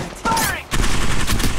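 Bursts of gunfire from the mobile battle royale game Apex Legends Mobile, loud and dense, with a short gap before a heavier stretch of rapid shots. Game effects and faint voice lines sit underneath.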